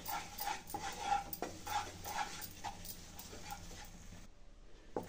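Spoon stirring besan halwa with ghee in a pan, a series of soft rhythmic scraping strokes, fairly faint and close, ending in a brief quiet.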